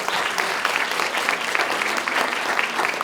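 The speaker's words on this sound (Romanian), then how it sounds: "vă rog să o aplaudați" An audience at an Aromanian cultural performance honoring mothers bursts into steady, close applause, many hands clapping densely and evenly throughout, with no speech over it.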